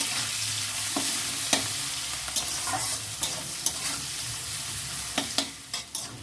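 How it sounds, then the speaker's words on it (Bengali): Chopped onion and green chilli fry in a pan, a soft steady sizzle broken by sharp scrapes and clicks of stirring. "পেঁয়াজের কুচি দিয়ে দেবো, আর এখানে কাঁচা লঙ্কা কুচি করা আছে টুকরো টুকরো, ওইটা দিয়ে দেবো। দিয়ে এটাকে একসঙ্গে ফের ভাজবো।"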